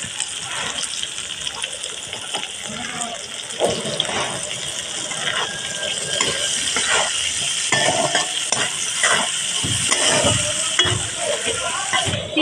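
Chopped onion and green chillies fry in a little oil in a kadai, a continuous soft sizzle broken by repeated scraping stirs of the spatula, close and moderately loud with no talk.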